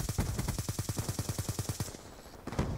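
Remington gunfire in the shooter game Black Ops 2: a rapid burst of about fourteen evenly spaced, punchy shots, a short pause, then one more shot.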